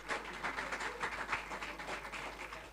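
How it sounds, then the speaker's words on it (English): Faint, distant applause from an audience at a student union presidential debate and manifesto event, welcoming a candidate. A short, soft ripple of clapping rises and falls in uneven waves. "A round of applause for him."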